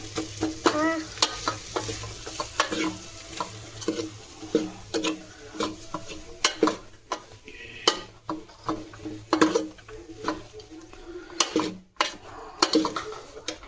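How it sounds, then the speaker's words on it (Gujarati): Khichdi is tempered and stirred in a pot, with a soft background sizzle under repeated scraping and clinking of a spoon against the metal vessel in an uneven rhythm, close by and fairly quiet. "ખીચડી વઘારે છે"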